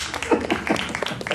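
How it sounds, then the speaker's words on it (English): An audience claps for a volunteer at a live hypnosis stage show, a short, moderately loud patter of many hands close together with no clear break. "Come on, give him a round of applause."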